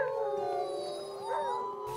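Sled dogs howling above the Arctic Circle, several long overlapping wavering howls with rising and falling pitch, close and clear, sustained across the moment with no talking.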